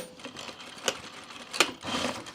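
A sewing machine stitches through stout, tightly woven webbing about two inches wide, a steady mechanical whir of needle strokes with two sharper knocks and a louder run near the end.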